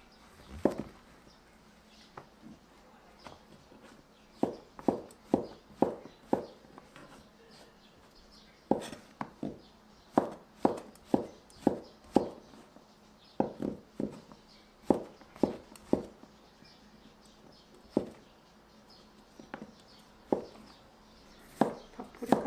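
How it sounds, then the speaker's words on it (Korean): Knife cutting king oyster mushrooms into thin strips on a cutting board, a steady run of crisp, close chopping taps in short bursts with brief pauses. "새송이도 채 썰어 줄게요."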